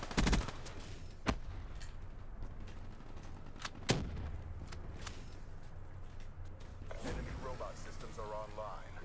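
Gunfire from the Call of Duty: Black Ops 3 video game cracks out in a few sharp separate shots over a steady game background, fairly faint, with a player's voice speaking now and then.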